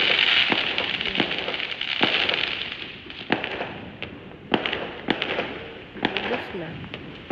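Firecrackers and fireworks burst at the end of Chinese New Year, with a crackling barrage giving way to scattered sharp bangs at uneven intervals, some near and some far, while people talk over them.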